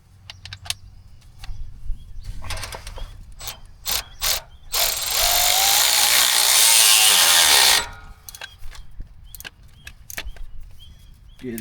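Wrench tightening the clamp on a new car exhaust tip: rapid ratcheting clicks in short bursts, then a few seconds of steady whirring mechanical buzz, then more scattered clicking, close and fairly loud.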